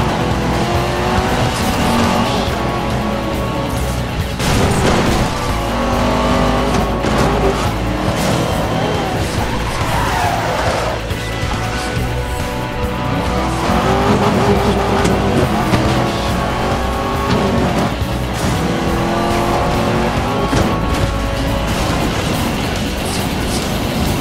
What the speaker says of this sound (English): Some of them are simple circuit races or sprints